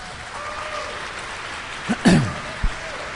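Audience applause fills a high school auditorium during a mayoral candidate forum, a steady, moderately loud clatter of clapping throughout with a few sharper thumps near the end.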